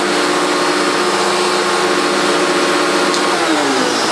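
An Electrolux vacuum cleaner set to high runs with a loud, constant whooshing roar and steady motor whine, close by and alone, with a slight pitch dip near the end.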